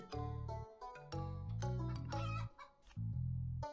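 Repeated game-style chicken clucks from card plays in the Terracards video game, several loud bursts in quick succession with short gaps, set against layered synthetic game music and effects.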